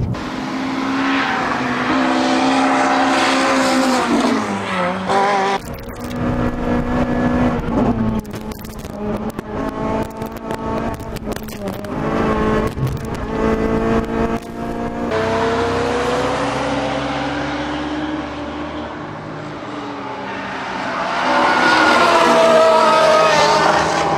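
A Honda Civic Type R FN2 race car with a 2-litre naturally aspirated engine revs hard through gears, a loud, high-pitched climbing engine note with brief drops at shifts and a rising final pull.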